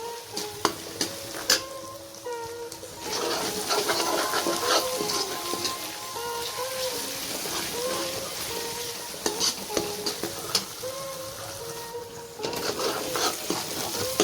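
Onions and green chillies fry for kavli chana, a dense, continuous close sizzle with frequent stirring clicks and scrapes throughout, with no speech.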